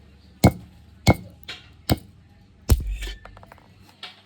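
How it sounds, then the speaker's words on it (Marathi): Jackfruit seeds being crushed, several sharp separate blows with short pauses between them, then lighter scraping and peeling noises nearby, with no talking. "आपल्याला अटल्यांच्या साली काढून घ्यायच्यात आणि ठेचून घ्यायच्यात"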